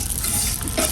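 Dried shrimp and dried chillies fry in a pan, giving a steady broadband sizzle with brief stirring scrapes near the end, close and fairly loud with no talking.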